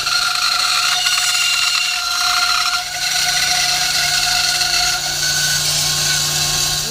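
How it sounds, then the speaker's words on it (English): A bandsaw cuts wooden circles in a workshop, a steady motor whine with a higher cutting drone that shifts slightly in pitch as the blade works through the wood, continuous and close throughout. "then we'll go cut these circles out on the bandsaw"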